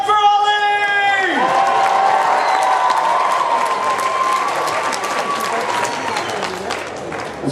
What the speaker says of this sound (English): Audience, good cheering.